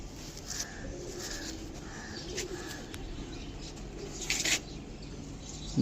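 Pigeons coo in repeated soft, low throaty calls, several overlapping through the clip amid a busy background, with a brief flutter of wings near the end; no one speaks.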